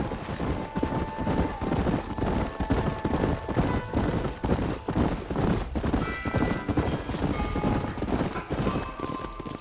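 Horses gallop in the Red Dead Redemption game, a dense, continuous rhythm of hoof clip-clops with occasional whinnies. The sound is close and steady throughout, with a faint musical tone above it and no talking.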